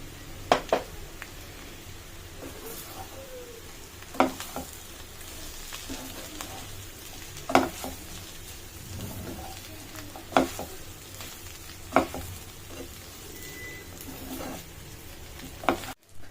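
Chicken fry sizzles in a pan with mint and coriander leaves, a continuous close frying hiss punctuated every couple of seconds by sharp spatula scrapes and clacks against the metal.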